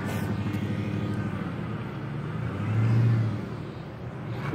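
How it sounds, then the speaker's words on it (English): A car drives past outdoors, a faint, distant engine and tire hum that swells briefly to a soft peak midway and then fades back under the steady background noise. "That car right now is like crazy right now. It's driving all the way back."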